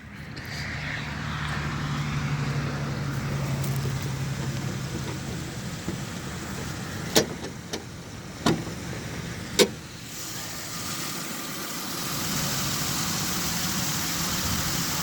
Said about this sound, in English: There's the engine. I mean, purrs like a kitten.